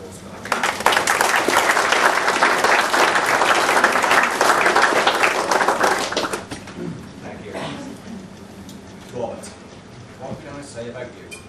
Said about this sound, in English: can we just have a small round of applause for that?